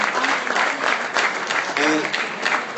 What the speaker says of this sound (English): I'd like to give them a round of applause and thank you too.